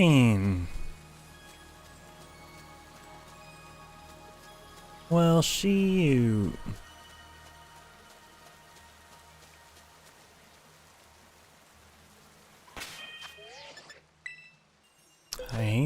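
Rain falls as steady, soft broadband patter in the Pokémon Violet video game, running beneath game music tones and chimes while a person speaks briefly.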